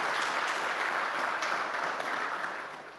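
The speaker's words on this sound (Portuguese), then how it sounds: "Uma salva de palmas para eles." Training-session participants applauding the organizers at the close of a three-day workshop; steady, dense clapping from a modest group in a room, even in level and tapering slightly at the end.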